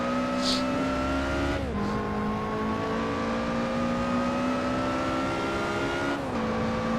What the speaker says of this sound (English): Hit the brakes, slow down. Then heel toe downshift, 3rd, 2nd.